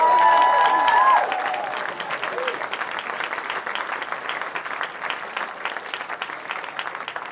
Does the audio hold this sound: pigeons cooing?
no